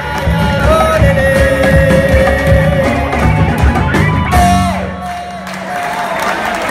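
Audience at a carnival awards ceremony in Corrientes clapping and cheering, a loud crowd roar with shouts and whoops, tapering slightly near the end.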